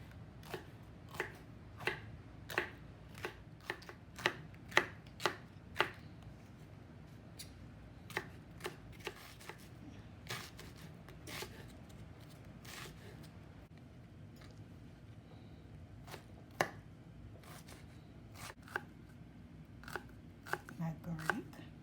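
A knife chops seasoning for red herring on a board, including garlic and hot pepper, with sharp, quiet taps that come in quick runs and scattered single strikes, separated by pauses.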